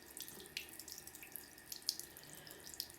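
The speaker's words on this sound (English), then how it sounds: "You want to rinse out all of the soap that's still in there." Water runs from a tap into a sink while a soapy makeup brush is rinsed, a steady faint splashing stream broken by small drips and splashes, with no voices.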